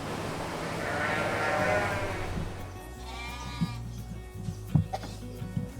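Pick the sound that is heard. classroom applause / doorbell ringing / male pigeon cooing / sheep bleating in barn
sheep bleating in barn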